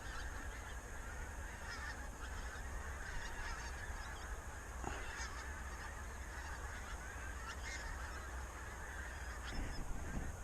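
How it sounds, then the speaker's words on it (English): Many pink-footed geese honk continuously from a distance over a marsh on a frosty morning, a busy overlapping chorus of calls with a steady wind-like background. "the geese have started to move off the marsh I'm on"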